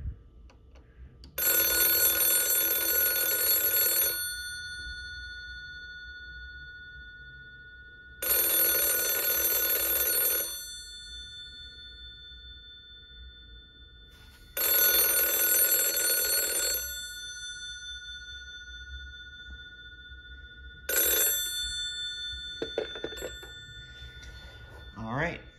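Four bursts of a 1977 Iwatsu 600A desk telephone's bell ringing indoors, each lasting two to three seconds with pauses between, loud and close, the last burst cut short and followed by brief handling clatter.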